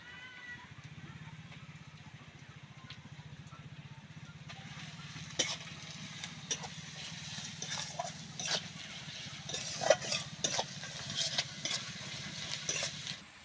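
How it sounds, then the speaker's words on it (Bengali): Garlic added to fried onions in a pan of oil for a mutton curry, a soft sizzle over a low hum that grows busier with scattered clicks of stirring, moderately quiet and close. "পেঁয়াজটা ভাজা হয়ে গেছে এবার রসুন দিয়ে দিচ্ছি"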